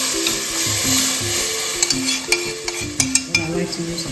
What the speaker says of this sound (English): I'm just going to pour that in there gently. You can hear that sizzling.